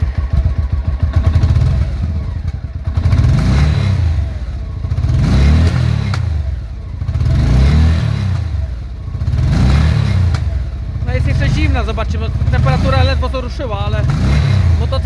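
A Honda VT800 Shadow V-twin motorcycle engine revs up repeatedly in rhythmic surges, loud and close, roughly every two seconds, with a voice speaking over the last few revs.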